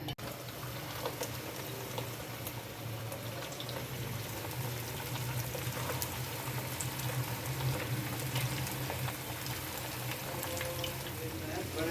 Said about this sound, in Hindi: अम्मी ने सारे कोफ्ते एक ही फ्राई पैन में डाल दिए हैं